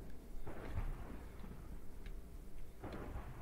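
Thunder from lightning strikes in a Minecraft tornado mod, low rumbling cracks rolling in twice over a steady hiss of rain, fairly faint and distant-sounding, with no talking.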